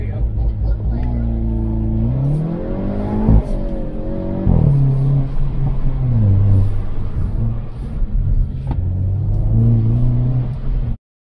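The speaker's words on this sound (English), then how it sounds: "I got to autocross the vehicle." A Hyundai Veloster N hatchback driven hard around an autocross course, its engine revving up and down through rising and falling pitch sweeps, loud and close throughout with a brief dip near the end.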